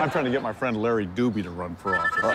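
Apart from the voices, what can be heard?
phone ringing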